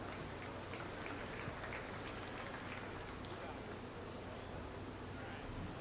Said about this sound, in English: Let's give her a nice big round of applause.